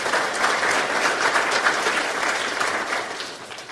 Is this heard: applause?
yes